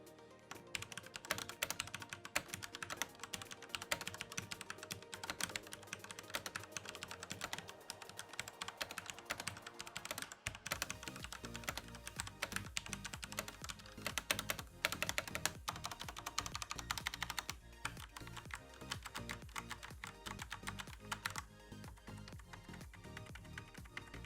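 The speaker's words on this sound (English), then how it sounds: "here's a quick sound test of how the Flare's MX Red switches sounds" Rapid, continuous clacking of an ASUS ROG Strix Flare keyboard with Cherry MX Red switches, close and clear, with a brief pause midway before the typing resumes at an even pace.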